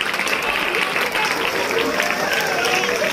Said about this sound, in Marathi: जरा टाळ्या वाजवा या मुलांसाठी